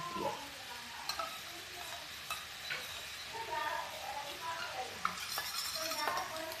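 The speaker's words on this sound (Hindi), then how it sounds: "ये जो मैंने मसाले घोल के रखे हैं ये भी डाल देते हैं" A dissolved spice paste goes into hot oil for a cauliflower and pea curry, hissing and sizzling steadily while a spoon stirs with occasional light clinks against the pan, close up.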